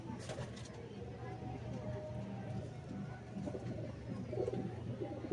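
A male Giribaz pigeon coos in a low, throaty, continuous warble at close range, with a faint voice murmuring underneath.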